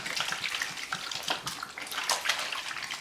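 Cloth diapers are hand washed in soapy water in a tub, with continuous close splashing, sloshing and dripping and no voices.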